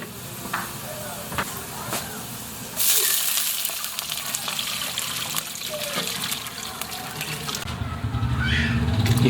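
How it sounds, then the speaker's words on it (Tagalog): Water pours into a cooking pot holding chicken, a rushing splash over an ongoing sizzle, with a louder gush near the end. "maglalagay tayong tubig"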